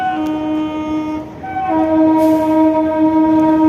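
A Majerhat–Hasnabad local train pulls into Dum Dum station, its sustained loud horn sounding twice with a brief gap, over a rumbling platform backdrop and no talk.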